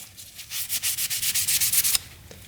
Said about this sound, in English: That's taking off all that surface rust.